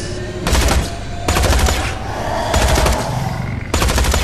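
Bursts of automatic rifle fire from a Maliwan-style rifle in Tales from the Borderlands ring out loudly in several rapid volleys. Short gaps separate the bursts.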